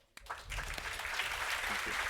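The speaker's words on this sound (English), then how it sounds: "I would like to thank the panel with a round of applause" A business forum audience breaks into applause for a panel, clapping starting abruptly after a brief hush and settling into a steady, fairly quiet patter.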